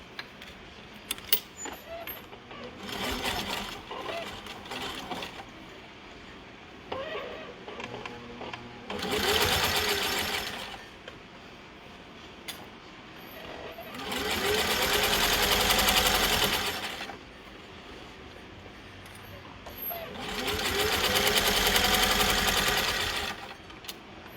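Sewing machine stitching through fabric while making a doll's exterior, running in three loud sustained bursts of a few seconds each, separated by quieter handling noise and brief pauses.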